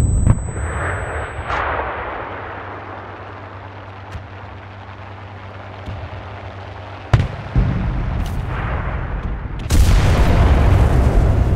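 Artillery explosions in the World War II shooter game Enlisted: several sharp booms spaced through a continuous rumbling battlefield background, with a heavier blast near the end followed by sustained roar.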